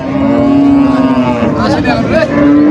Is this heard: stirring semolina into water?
no